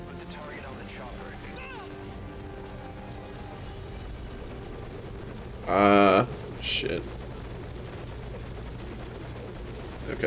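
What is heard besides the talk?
helicopter in video game Metal Gear Solid V: Ground Zeroes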